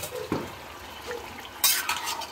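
Masala and chicken are stirred in a kadhai: a spoon scrapes and knocks against the metal pan, with soft sizzling between a few louder, close scrapes.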